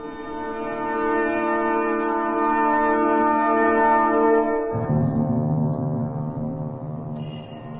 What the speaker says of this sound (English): We are fortunate to hear Big Ben, comrades.